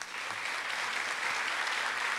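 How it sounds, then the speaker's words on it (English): A school convocation crowd gives a steady round of applause, a dense, even wash of many hands clapping at moderate loudness for the whole stretch, with no voices over it. "let's give them a round of applause as well"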